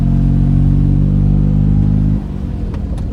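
A car engine runs loud and close in a steady, rumbling drone, then the tone drops and shifts abruptly as the car moves off, with some lighter clatter afterward.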